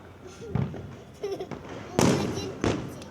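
Firecrackers set off during Kali Puja burst in three sharp, loud bangs, with crackling hiss after each one, amid nearby voices.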